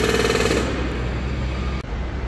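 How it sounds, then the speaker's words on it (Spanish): A jackhammer breaks concrete inside a stadium tower under construction, chattering steadily at fair distance before fading into a rougher machine rumble, with one sharp knock near the end. "Y en esta torre B están picando también en estos precisos instantes."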